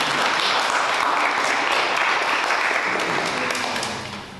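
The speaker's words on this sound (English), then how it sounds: "So everybody please give a round of applause." A forum audience breaks into loud, dense applause that holds steady, then begins to thin and fade in the final moments.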